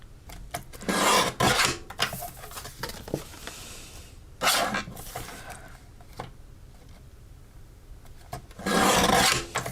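A base for a handmade card being trimmed, with a few loud rasping cuts in separate bursts and quieter scraping and handling between them.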